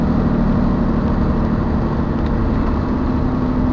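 A Dodge Ram with a Cummins diesel runs with its exhaust brake engaged, giving a steady, loud, low engine drone throughout with no speech.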